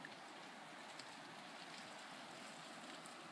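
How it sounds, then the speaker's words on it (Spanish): Steady hiss of freezing rain falling in below-zero temperatures, a dense even patter with no breaks and no voices. "es una lluvia en realidad. Pero como estamos bajo cero, se convierte en nieve."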